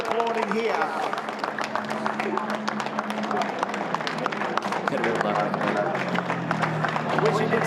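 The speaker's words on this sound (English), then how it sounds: "Give him a round of applause as he comes through." A crowd at a Time Attack rally event claps and cheers continuously for a passing Escort car, dense applause with a voice talking over it and an engine droning underneath.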